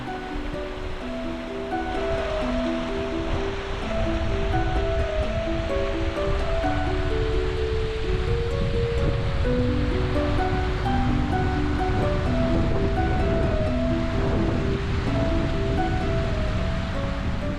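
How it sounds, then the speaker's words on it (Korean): Clear river water spilling over a low weir at Jeomgok Valley, a steady broadband rushing flow with no pauses, heard alone under a faint music-like layer. "졸졸졸 꾸르륵 꾸르륵 나지막한 둑을 넘는 청아한 강물 소리가 저를 상념에 들게 합니다"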